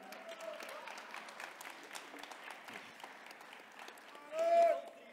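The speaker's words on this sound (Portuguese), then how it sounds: "eu quero que vocês aplaudam esses 2 varões, Pastor Marcos e o Luizinho" An audience applauds in a church, a steady wash of clapping at moderate distance with a preacher's voice running over it and a brief louder swell near the end.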